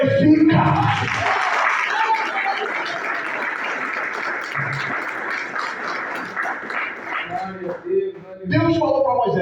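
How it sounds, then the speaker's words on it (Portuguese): A church congregation applauding during an evangelist's sermon, a sustained wash of clapping lasting several seconds, framed by a preacher's voice at the start and end. "Palmas que glorifica."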